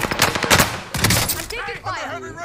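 Shotgun blasts in Call of Duty Warzone gameplay: several loud, sharp bursts in quick succession, followed by an excited voice talking over the tail end.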